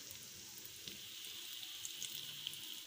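Potato cutlets frying in oil over a medium flame give a continuous soft sizzle and crackle, with occasional small pops, steady and fairly quiet throughout.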